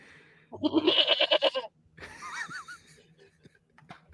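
A small plastic goat toy lets out a loud, quavering bleat of about a second, followed by wheezy laughter and a few soft voices in a quiet room.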